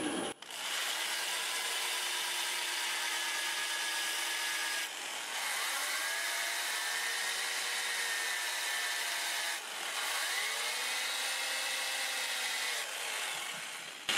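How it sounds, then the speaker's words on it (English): Sandpaper rubs against a redwood bowl spinning on a wood lathe, giving a loud, continuous rasping hiss in three long passes separated by brief pauses. "I'm going to sand it from 80 to 400"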